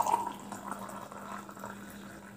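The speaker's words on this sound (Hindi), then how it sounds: "गर्म पानी ले लिया" Hot water poured into a container, a quiet, steady liquid trickle lasting a couple of seconds with no voices.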